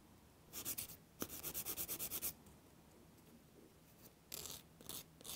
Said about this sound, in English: And then at the end, you're just going to file straight like a square.